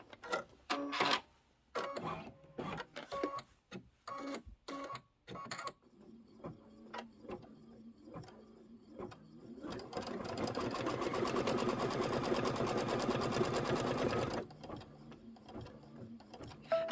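An embroidery sewing machine stitches a basting line, starting with intermittent short bursts of needle clatter and then running in a steady, fast mechanical rhythm for several seconds before stopping, close and unaccompanied by speech.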